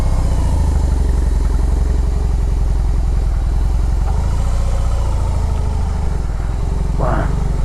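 A BMW R18 motorcycle with a large flat-twin 1800 engine rumbles loud and close as the clutch is released, a deep steady throb with a brief higher rise near the end.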